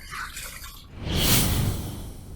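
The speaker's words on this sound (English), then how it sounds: "Let's rinse." Water runs steadily from a tap as a face is rinsed after a shave, a brief trickle first, then a fuller continuous splash that fills the rest, near and moderately loud with no voices.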